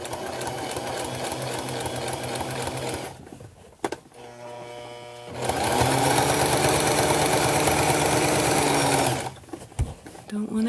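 A sewing machine quilting in two steady, fast-running stretches separated by a brief pause with small clicks, near and prominent, with a person talking over it.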